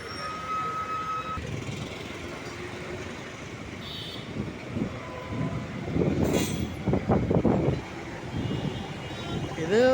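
A BMTC Volvo city bus passes at the BMTC headquarters in Bangalore. A heavy vehicle rumble with squeals and clatter builds and grows louder toward the end, while voices are heard in the background.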